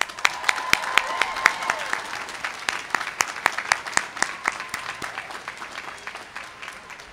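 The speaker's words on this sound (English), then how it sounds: "Let us recognize all of these mothers, fathers, brothers, sisters, spouses, partners, children, and others with a round of applause." A commencement audience at a law school ceremony applauds, many hands clapping in a dense wash with sharp individual claps standing out near the front, gradually thinning and fading toward the end.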